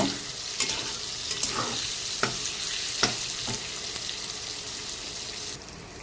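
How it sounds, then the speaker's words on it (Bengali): Soybean chunks fry in hot oil that was just used for frying potatoes, giving a steady, close sizzle with occasional scraping stir clicks. No one talks. "সয়াবিনটা আমি তেলে দিয়ে ভেজে নেব।"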